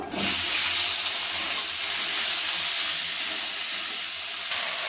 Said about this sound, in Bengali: এখানে আমি ঢ্যাঁড়স আর আলুটা যে কেটে রেখে দিয়েছিলাম সেটাও আমি একটু ভেজে নেব।